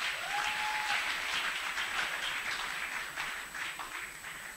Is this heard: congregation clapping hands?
yes